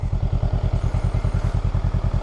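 A 2023 Honda Rebel 500 SE motorcycle engine idling close by, with a steady, even low thumping pulse and a faint clatter on top. The sound is loud and alone, with no voices.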